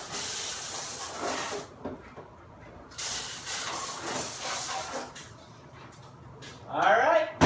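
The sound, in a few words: dishwasher spray arms spraying water inside Frigidaire dishwasher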